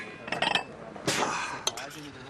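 Potato and mushroom paprikash scooped from a pan with a small spoon, heard as a few quick metallic clinks and scrapes close by, followed by a single louder scrape.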